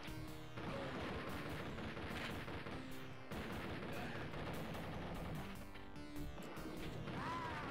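Rapid chaingun bursts from a chaingunner enemy in the Doom mod Project: Liftwaffe, loud and dense, with overlapping crashes and impacts running almost without break over several seconds.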